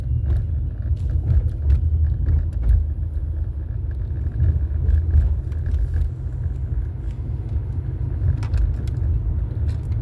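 A car coasts along a road, giving a steady low rumbling hum of tyres and body noise with no revving engine, continuous and close from inside the vehicle, with no talk.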